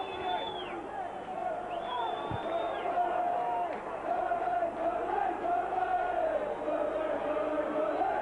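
A football stadium crowd of Burnley supporters in the James Hargreaves stand, producing a continuous rumble of grumbling, shouts and whistles that rises and falls, with a commentator's voice running over it.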